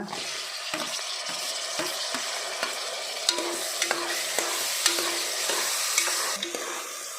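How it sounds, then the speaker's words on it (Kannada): Onion and tomato frying in a pan for vangibath: a steady close sizzle with frequent spatula scrapes and light taps against the pan, some in quick clusters, carrying on without any talk. "ಇದಕ್ಕೆ ಟೊಮೊಟೊ ಹಾಕ್ಕೊಳ್ಳುವ"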